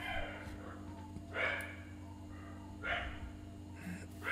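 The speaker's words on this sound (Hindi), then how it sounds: "अरे यार ये कुत्ते" Dogs bark outside during an indoor lesson, three separate bark bursts spaced a second or more apart, faint and somewhat distant over a steady low hum.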